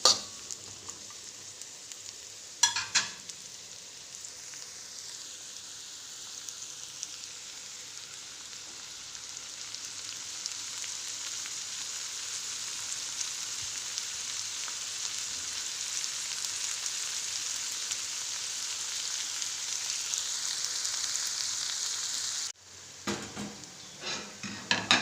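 Onions fry in a pan for chicken varuval, giving a steady, close hissing sizzle that runs unbroken for about twenty seconds. Brief clatters of utensils against the pan come near the start and again at the end.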